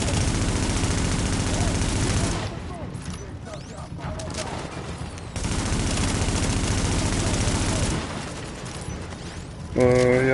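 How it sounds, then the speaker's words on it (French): Gunfire in the video game The Division, a dense burst of rapid shots that breaks off, returns and fades again over a steady din, with a voice talking near the end. "Il y a un mec qui me tire dessus"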